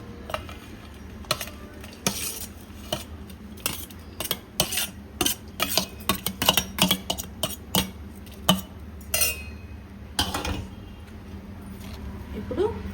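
Chopped chilli, carrot, grapes, coriander and cucumber being mixed together in a bowl, with a close, irregular run of clinking spoon-on-dish taps and scraping stirs.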